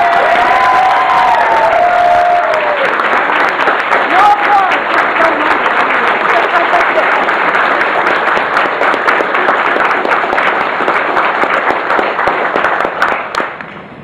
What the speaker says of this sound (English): So everyone give them a huge round of applause.